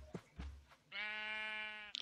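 A single clear sheep bleat from the video game Minecraft rings out after a couple of soft thumps, holding for about a second before a small click at the end.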